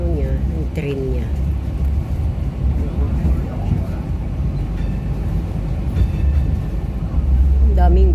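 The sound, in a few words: train passing at Hung Shui Kiu, Hong Kong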